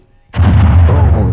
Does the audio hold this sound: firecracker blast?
yes